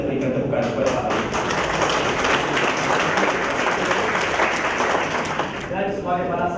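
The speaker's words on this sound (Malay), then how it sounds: "kita berikan tepukan kepada Pak Latif" Sustained audience clapping at a Malay-language book launch for a translated classic drama, dense and steady throughout with a brief dip near the end, loud and close in an indoor hall.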